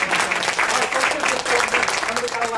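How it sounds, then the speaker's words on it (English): Clapping from a regional business meeting audience, lively and uneven, with cheers or voices mixed into the applause for a short burst. "Let's give her a round of applause."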